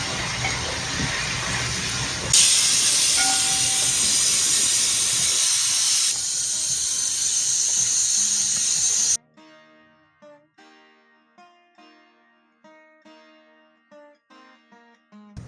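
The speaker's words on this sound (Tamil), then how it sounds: "ரெண்டு விசில் வந்துருச்சுங்க." A pressure cooker holding Kerala-style tapioca and sardine curry vents steam in a loud, sustained hiss for about nine seconds. The hiss then cuts off abruptly, leaving faint, sparse kitchen clinks.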